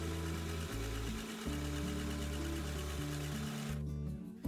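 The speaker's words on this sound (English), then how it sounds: "I'm going to sew a straight stitch here." A mini sewing machine running a straight stitch through fabric, a close, steady mechanical whirr and rapid needle chatter that shifts speed a few times before stopping near the end.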